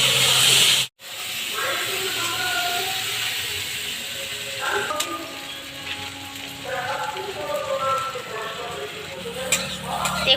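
Potatoes with turmeric fry in a pan with a steady, close sizzling hiss and occasional stirring scrapes, broken by a brief drop-out near the start.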